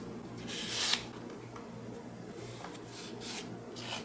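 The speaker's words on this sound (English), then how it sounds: "going to take my superfine buffing block and get the excess oxidation off of that" A superfine buffing block rubs oxidation off copper for earrings, a few short dry scrubbing strokes, close and fairly faint, with a soft hum behind them.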